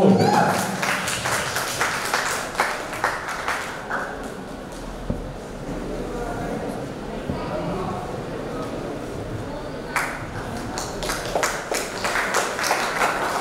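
A talent hunt award show audience at Taraji Resort in Ayodhya claps for the winner: dense bursts of applause at the start and again near the end, with voices talking over and between them.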